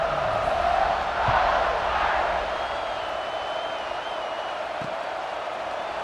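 A large stadium crowd in the video game College Football 26, Syracuse vs. Notre Dame, roars steadily, a dense continuous wash of voices that swells slightly early on and then holds at an even level.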